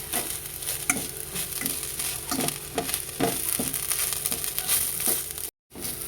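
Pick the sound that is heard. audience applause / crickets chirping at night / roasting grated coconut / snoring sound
roasting grated coconut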